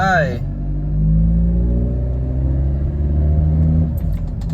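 Motorcycle fitted with an OBD1 smart gauge pulling away, a brief rising rev then a steady low engine rumble as it accelerates, loud and close.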